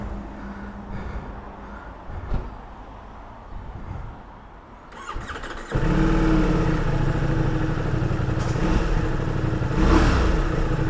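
A 2021 Ducati Multistrada V4 S engine runs at a low idle, then roars louder and revs in rising and falling swells, close by with no talk.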